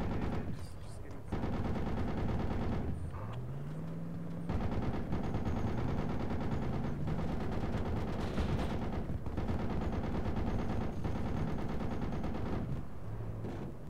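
Sustained gunfire in the video game Project Reality, with rapid automatic bursts and heavy rattling fire piling up close and loud over a constant battle din, while a few voices come through briefly.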